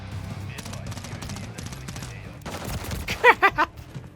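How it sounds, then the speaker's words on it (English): Gunfire in Modern Warfare III: rapid automatic bursts at moderate distance, then a louder cluster of sharp shots near the end, with other game sounds mixed in. "You're just shooting at where they were."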